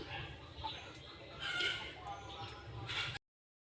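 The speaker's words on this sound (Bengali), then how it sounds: "এই যে আমার মুরগিগুলো" Backyard hens, local desi and 'tiger' breeds, clucking in a rural coop area, several soft calls scattered over steady outdoor ambience with a brief louder burst in the middle.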